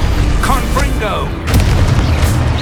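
A Confringo fire spell from the Hogwarts Legacy video game bursts in a loud, booming explosion with a rumbling tail, followed by a second heavy blast, while a voice speaks over the opening.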